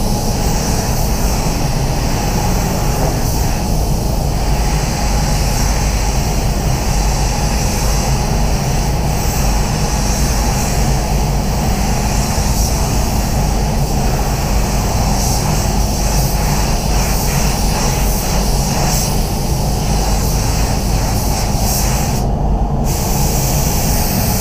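A spray gun lays quick coats of black paint over a Volvo S60 bonnet, producing a loud continuous roaring hiss that fills the whole stretch with little change, nobody speaking.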